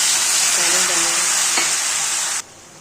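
Jackfruit vegetable curry (kathal sabzi) sizzles loudly while being stir-fried in a pan, with a steady close hiss, a spoon scraping through, and a sudden cut as the sizzle drops away near the end.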